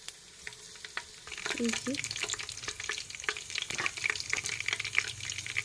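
Chopped garlic fries in oil in a home kitchen while being stirred, giving a steady sizzle with scraping stir strokes that thickens after the first second; a brief word of speech comes near the start.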